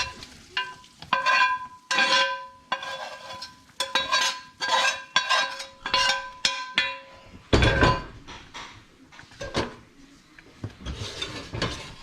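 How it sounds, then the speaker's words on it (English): Sausage and its fat get stirred into a thickening gravy with repeated scraping, rubbing strokes. A soft sizzle runs underneath, and there is no talking. "And then we're going to add our sausage right to this. Sausage fat and all, don't skimp on it."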